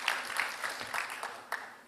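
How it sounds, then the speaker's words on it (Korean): A short burst of applause from a conference audience, fairly faint and distant, with scattered claps rising and falling. "여러분, 큰 박수 부탁드리겠습니다"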